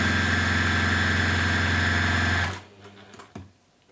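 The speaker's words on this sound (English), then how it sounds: "I'm just going to stitch down both sides." A sewing machine runs steadily at speed stitching down both sides of a bunny pouch, then stops abruptly, followed by a few soft handling clicks.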